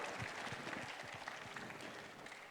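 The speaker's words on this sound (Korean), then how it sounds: "박수. 네, 박수!" An outdoor seaside festival crowd at an opening ceremony gives a brief, steady round of applause, dense clapping of many hands heard at a moderate distance.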